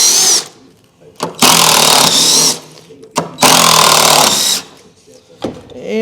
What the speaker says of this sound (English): Now I put all these screws in here because I don't want anybody to break in.